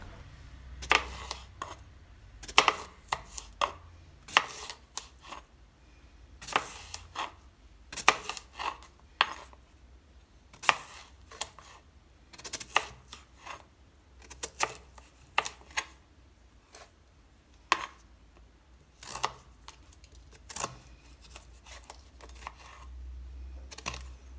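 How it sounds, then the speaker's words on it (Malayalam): Mango being chopped with a knife on a board in a kitchen, a series of sharp, irregular close taps at a fairly quiet level, with no talking. "ഇനി നമുക്ക് മാങ്ങയും കൂടെ അരിഞ്ഞെടുക്കാം"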